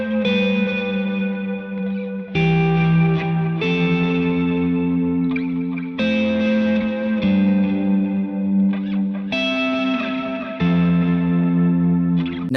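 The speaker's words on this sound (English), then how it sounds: "what I decided to do today is to plug it straight into the front of my amp, but to also have overdrive pedals and booster pedals running into the delay first" Electric guitar runs through overdrive and booster pedals into a delay pedal plugged into the front of the amp, sustained driven chords with echoing repeats, strummed in a slow steady pattern, no talking.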